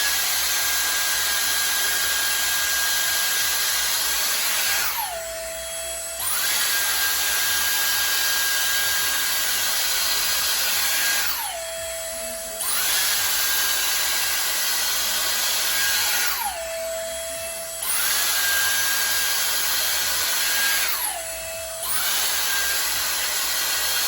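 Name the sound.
Dyson Airstrait straightener blowing air, cold temperature, high fan speed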